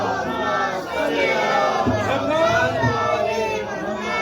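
A mosque congregation marking the birth of Imam Hussain and Mola Abbas loudly recites salawat on Muhammad and his family together, a full, surging chorus of many voices rising in strength through the clip.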